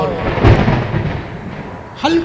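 Thunder rumbles low and loud through a heavy storm wash, with a deeper swell midway and a voice breaking in briefly near the end.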